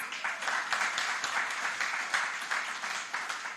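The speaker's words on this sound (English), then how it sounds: "Give them a round of applause." A round of applause from the audience at a government electronic procurement platform launch, steady dense clapping throughout, moderately distant and fairly even in level.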